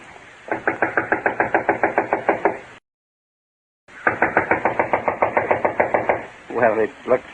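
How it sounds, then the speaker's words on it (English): Knuckles rapping on the door of a run-down, unoccupied house in a radio mystery drama: two close, loud runs of rapid, even knocks separated by a pause, followed by brief speech. "I'll knock."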